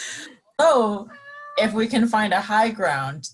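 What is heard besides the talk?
cat Kyber meowing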